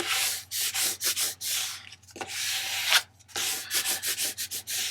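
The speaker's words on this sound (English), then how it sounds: "I'm just going to give it a really good burnish on both sides" A squeegee burnishing transfer paper onto a Christmas Eve treat plate, making repeated rough rubbing strokes in quick back-and-forth bursts with short pauses, close and loud, with no talking.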